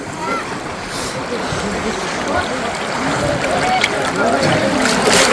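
A fisherman dives into a village river while hunting fish, giving continuous splashing and churning water close by, steady and fairly loud with faint voices in the background.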